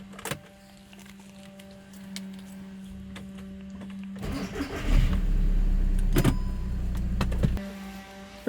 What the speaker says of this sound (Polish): silnik ładnie chodzi